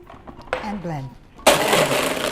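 A countertop blender loud and close, grinding ice with coffee, sugar syrup and milk syrup for a mochaccino frappe, kicking in abruptly after a short spoken bit and roaring steadily to the end.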